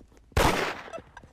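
One sharp, close gunshot in the Roblox game Da Hood cracks out after a quiet moment and decays quickly, followed by a few faint trailing clicks.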